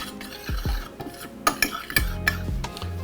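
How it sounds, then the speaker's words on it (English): A whisk scrapes and taps quickly around a bowl, stirring flour together with cayenne, black pepper, garlic powder and kosher salt in close, rhythmic strokes with clinks against the side. "black pepper, garlic powder, and kosher salt. I'm just gonna whisk all of that together."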